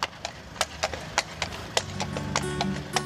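Selle Français police horses shifting in a city-centre stable, hooves knocking sharply on wood in irregular clip-clops, fairly close, over a low steady hum of the building.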